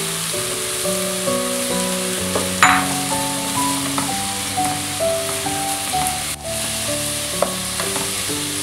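Sliced onion frying with chopped coconut pieces for a prawn curry: a loud, steady sizzle fills the whole stretch with occasional stirring scrapes, while background music plays underneath and nobody speaks.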